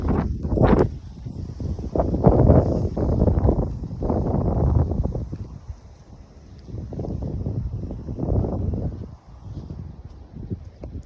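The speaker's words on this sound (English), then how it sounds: "I'm sorry about the wind and stuff." Strong wind buffets the microphone outdoors during a tornado watch, producing loud, gusty low rumbling bursts that rise and fall unevenly throughout, with brief quieter lulls between gusts.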